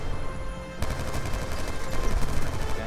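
Rapid automatic gunfire in the shooter Call of Duty Black Ops 2, a loud continuous rattle of shots that swells after a brief lull and keeps hammering to the end.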